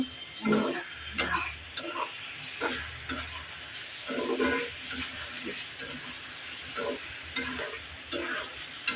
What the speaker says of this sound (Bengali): এই ডিম দিয়ে একটু নাড়াচাড়া করি